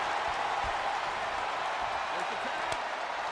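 A WWE 2K24 video game wrestling arena crowd roars in a steady, dense wash of cheering and faint applause that fills the whole stretch without letup.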